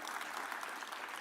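An audience claps steadily through a brief burst of applause at a Kenya China Trade Week 2025 business event, dense and even from start to finish.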